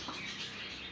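Pet lovebirds, a pair kept at home, chirping in a brief burst of bright, close twittering over a busy background.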